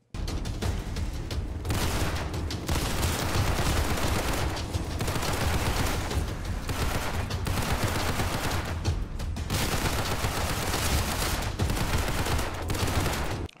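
Gunfire in the Roblox video game Criminality: dense, loud volleys of shots run almost nonstop, broken by a few short pauses, with no talking.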